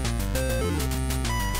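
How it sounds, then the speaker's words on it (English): Time running out warning in Cobra Triangle on the NES, a dense chiptune passage with buzzy square-wave tones and a thumping low pulse, loud and continuous with no talk. "The sound of time running out on a level."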